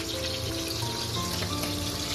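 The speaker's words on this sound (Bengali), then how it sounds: "তুমি এখন এখানে মাছ ভাজি" Fish fries in a pan, a steady, dense hiss of sizzling oil that stays loud and unbroken throughout with no pauses.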